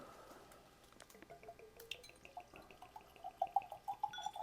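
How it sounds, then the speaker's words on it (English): Whiskey trickles and glugs into a glass, soft and close, with small bubbling pulses growing a little louder toward the end. "Have to get a nice pour for this tonight."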